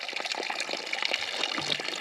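Filtered water poured into a container on a Balkan mountain trek, a steady close splashing stream that runs for the whole two seconds with no voices.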